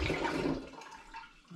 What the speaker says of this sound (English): So I shall just tip some out of this demijohn into here.